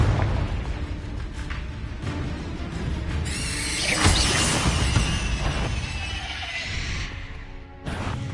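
A Confringo blasting spell in Hogwarts Legacy sets off a loud, roaring explosion that swells and rumbles for several seconds amid other game effects.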